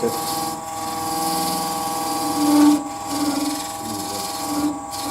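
A spindle gouge takes light cuts on a candlestick turning on a wood lathe, a steady close scraping rasp over the motor's constant hum, with a few brief drops and swells in the cutting.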